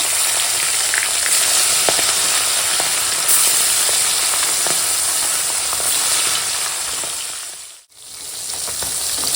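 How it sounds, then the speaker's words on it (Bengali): Fish fry in hot mustard oil, a loud steady sizzling hiss with faint crackles and small utensil ticks, briefly dipping near the end before resuming. "তেল এখন গরম হয়ে গেছে আর এখন মাছগুলোকে ছেড়ে দেবো ভেজে নেবো মাছগুলো"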